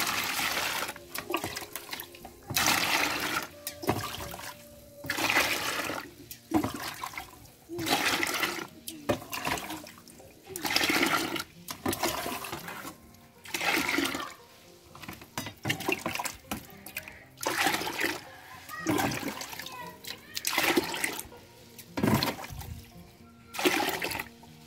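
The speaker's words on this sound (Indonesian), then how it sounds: "saya akan campur dengan 10 bagian air ya." Water is poured repeatedly to dilute a liquid fertilizer made from spinach leaves, coming as about a dozen rhythmic splashing bursts separated by short pauses, with talking in between.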